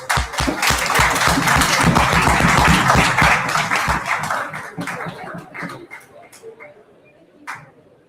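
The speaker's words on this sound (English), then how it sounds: "Please give sir a huge round of applause, everyone." An indoor audience at a physiotherapy conference claps loudly for several seconds. The applause then thins to scattered claps and fades, with a few last faint claps near the end.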